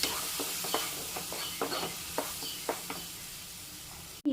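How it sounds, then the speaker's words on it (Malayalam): Mango dessert mixture stirred in a pan over medium flame, a soft sizzle underlying a series of distinct scraping strokes in uneven rhythm, ending with a sharp clunk. "ഒന്നിളക്കി കൊടുക്കാം"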